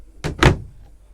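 Hanging locker door on a Rodman Muse 44 yacht, a short pair of close wooden knocks and clicks as it opens, then quiet cabin hush.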